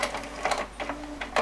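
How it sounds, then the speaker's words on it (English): An inkjet-style printer runs a photo print sent from a phone through Cloudprint, giving quick mechanical whirring bursts in an uneven rhythm, close and moderately loud. "There it goes, printing."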